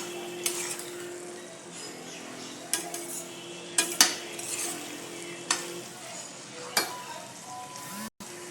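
Bitter gourd cooking with crushed peanuts in a pan: a soft, continuous sizzle runs under repeated scrapes and clinks of a spatula against the pan, close by, with a few sharper knocks.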